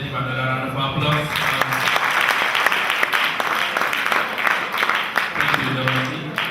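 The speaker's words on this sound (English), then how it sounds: "Let's give another round of applause." Audience applause rings out after a debate round at a finals competition, a sustained wash of clapping from a crowd, steady and fairly loud, with talking over it at the start and end.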